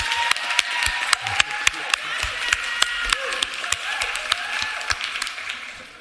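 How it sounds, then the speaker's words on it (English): Scattered applause in a county commission meeting room follows a speaker, a small group clapping in sharp, distinct claps at an uneven rhythm over a low murmur of voices. "Let's give her a round of applause"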